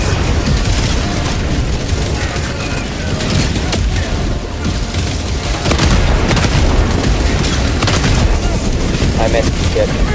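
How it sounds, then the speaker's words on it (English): Grenades detonate in a Helldivers 2 base defense mission, with heavy repeated booms and rumbling blasts piled densely over constant battle noise while players talk throughout. "Throwing grenade! Got the tank."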